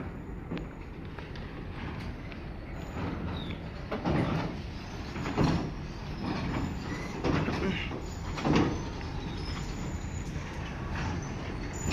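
A red and blue passenger train passes close by with a steady, loud rumble of wheels on rails and repeated metallic clanks as the cars go past, with no talking.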